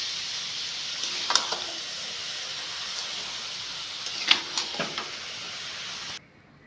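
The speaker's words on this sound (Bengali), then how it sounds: "এবার আমি এটাকে এইভাবে নাড়াচাড়া করব। আর নাড়াচাড়া করতে করতে বাকি যে চিনিগুলো গলে না" Raw mango pickle is stirred with melting sugar in a pan, giving a faint, soft sizzle with a few scraping strokes of the spoon. The sound is quiet and close, then drops away at the end.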